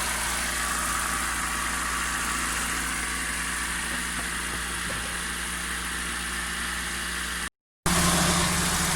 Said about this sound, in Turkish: Evet dostlar aracın sonunda fanını açtı.